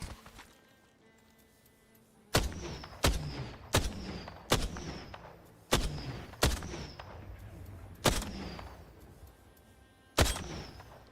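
Gunfire from a weapon in Apex Legends, a series of sharp, loud shots at uneven intervals, each with a short ringing tail, about ten in all over a quiet game background.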